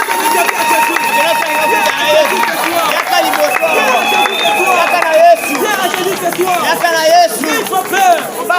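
Crowd at an evangelism campaign rally in Boma cheering and shouting to acclaim the Lord, a loud continuous roar of many voices with whoops and cries, sustained throughout with individual shouts rising above the mass.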